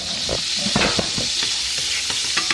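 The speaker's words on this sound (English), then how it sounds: "Get that butter frying up." Butter frying in a pan for low-carb keto bagel bites gives a steady bright sizzle and hiss, with scattered spatula or utensil clinks and scrapes breaking through, close and loud throughout.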